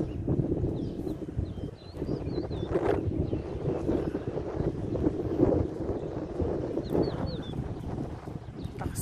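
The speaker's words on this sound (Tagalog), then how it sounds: "Ang hangin, grabe oh." Strong desert wind buffets the microphone in a continuous low rumbling roar with gusty swells, loud and close, with faint birdlike chirps in the background.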